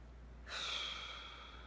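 A single slow, deep breath drawn in through the nose and released through the mouth, a soft close airy hiss lasting about a second in an otherwise quiet room.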